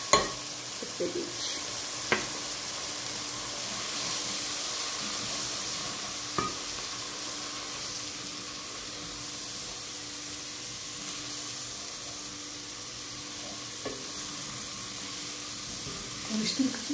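Flour stirred and toasted in a pot for a beetroot chicken vegetable soup: a steady close sizzle with scraping stir strokes and a few sharp clinks of the spoon against the pot, running throughout.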